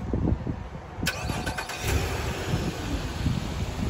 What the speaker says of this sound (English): First feature I love is the remote start.